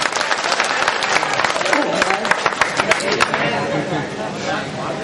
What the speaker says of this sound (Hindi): तो तालियां तालियां एक बार तालियां।